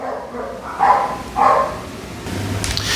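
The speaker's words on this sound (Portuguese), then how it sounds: "Olha meu cachorro." A pet dog in a home gives two short barks in a row, moderately close, over a quiet room background.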